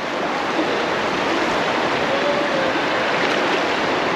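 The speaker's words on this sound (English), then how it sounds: "River water nice, so cool." River water rushing steadily beside a Jamaican riverside cooking spot, a broad continuous wash of flowing water that stays loud and unbroken throughout, with no voices.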